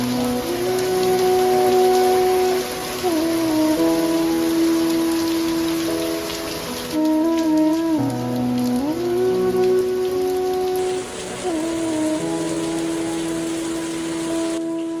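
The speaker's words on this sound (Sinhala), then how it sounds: "එක පාටම වහින්න ගත්තා." Heavy rain pours down steadily at Anuradhapura, a dense, unbroken wash of drumming drops lasting throughout, with sustained tonal sounds running over it and no talking.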